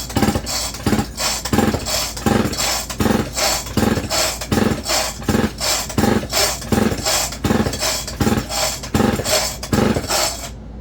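A Homelite VI200 chainsaw's starter cord is pulled over and over for a compression check, giving a steady series of rasping, ratcheting pulls with short pauses between them, close and fairly loud, and nobody speaking.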